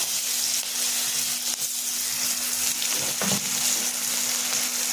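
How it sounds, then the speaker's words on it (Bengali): Dried red chillies and chopped onions frying in hot oil for a fish kalia, giving a steady, close sizzle with light stirring and no talk. "শুকনো লঙ্কা দিয়ে দিলাম আর কুচুনো পেঁয়াজ দিয়ে দিলাম"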